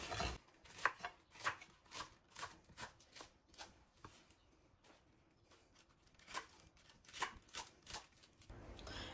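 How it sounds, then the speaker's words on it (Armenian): A knife chopping food on a board by hand, sharp irregular cuts arriving in small bursts with short pauses between, fairly close and quiet, with no talking. "Բայց դանակով կօգտագործենք, կկտրատենք, այսպիսի կտորների եմ վերածելու։"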